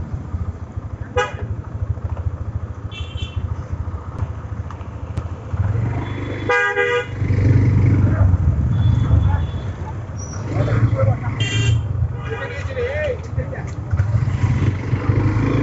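Busy road traffic at a crowded Friday gathering at Khoitta Bottola, with car horns tooting several times and motorcycle engines passing, with people talking over the steady street noise.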